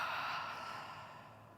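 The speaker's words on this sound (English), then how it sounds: "exhale through the mouth." A single long exhale through the mouth during a yoga breathing exercise, a soft close breathy rush that fades out gradually.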